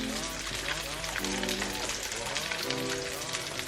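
Chicken broth is poured into a pan, a steady close splashing and sizzling hiss that carries on without a break while faint talk runs underneath.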